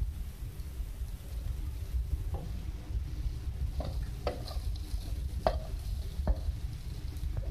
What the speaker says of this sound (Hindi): फिलिंग को आप मिक्स करें और उसको आप ठंडा कर लें